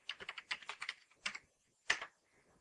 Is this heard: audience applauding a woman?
no